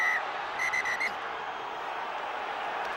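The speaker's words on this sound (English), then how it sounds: "from the quick peeps on the whistle to follow the long blast" Referee's whistle at a Gloucester versus Leicester rugby match gives a short peep, then a run of three or four quick peeps, sounding over a steady roar of the stadium crowd.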